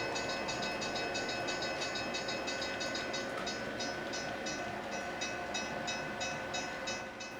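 An HO scale model train, a mixed 1973-era consist with a caboose, rolls steadily past on the layout, giving a continuous rumble with fine, rhythmic clicking of wheels over rail joints and no voices.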